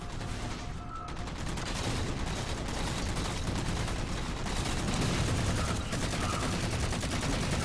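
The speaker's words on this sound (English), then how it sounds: "Whoa! Explosions!" Continuous battle noise from a Halo 4 multiplayer match, with dense gunfire and explosion blasts rolling together at steady loudness for several seconds, surging slightly louder in the middle.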